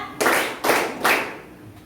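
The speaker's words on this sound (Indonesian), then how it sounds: "Tepuk tiga" Three sharp group claps from a class of children in a classroom, evenly spaced about half a second apart, close and loud, followed by quiet.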